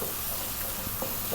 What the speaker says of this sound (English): turmeric, cumin, coriander, garam masala, and chili. And we're going to give this a really nice stir in for a few seconds.